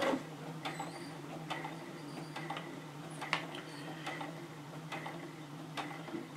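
A sewing machine stitching slowly over flattened darts on a cloth doll, a run of light regular ticks and mechanical clicks at close range, no talking.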